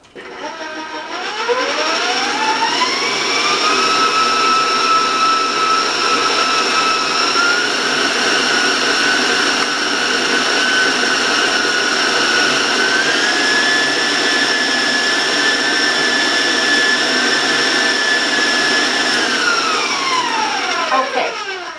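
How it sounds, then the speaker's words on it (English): Electric mixer beating waffle batter for corn flake waffles, a steady high motor whine that rises in pitch as it speeds up, holds loud and continuous for about twenty seconds, then winds down at the end. "So I'm going to warn you about the sound, about the mixer."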